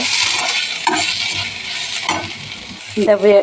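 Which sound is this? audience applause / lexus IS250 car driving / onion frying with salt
onion frying with salt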